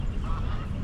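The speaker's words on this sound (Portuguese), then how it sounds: "Olha ali o tanto de ganso." Geese honk together in a brief, busy chorus by a lake, slightly distant and mixed with outdoor background noise.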